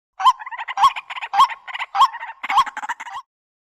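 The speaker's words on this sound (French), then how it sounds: "une troupe Taira prend peur en entendant le gloussement d'une poule d'eau" A water hen clucks in a series of about six sharp, evenly spaced call bursts, each followed by quicker chattering notes, heard close and clear against silence.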